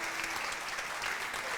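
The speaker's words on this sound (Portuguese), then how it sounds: "você pode aplaudir ao Senhor por isso" A church congregation claps together in a steady, dense round of applause.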